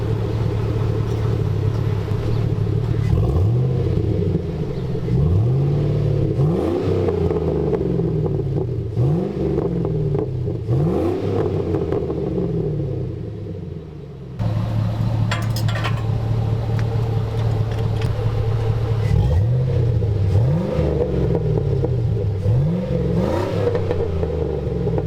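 A lowered 4x4 Sierra SS pickup's engine revs repeatedly through a Flowmaster 10 series exhaust, each blip rising and falling in a deep, bassy rumble over a steady idle, loud and close.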